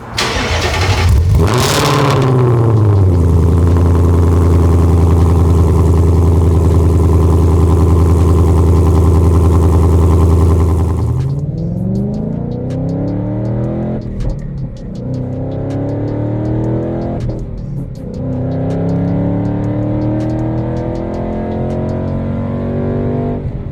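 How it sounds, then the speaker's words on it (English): A Mustang Dark Horse V8 cranks and fires, roaring into a loud, steady idle before settling, then blips of revving through a throaty AWE 3-inch active sport exhaust, close by. "Here's the first start with the AWE exhaust installed."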